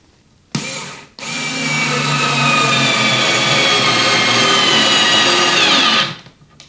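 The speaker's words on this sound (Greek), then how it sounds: "να δούμε αν θα μπορέσουμε με το συγκεκριμένο εργαλείο να βιδώσουμε τη βίδα" A Parkside 4V electric screwdriver with a magnetic holder and Torx 20 bit drives a screw. After a brief first burst comes a long, steady, close motor whine of about five seconds that strains under load before stopping.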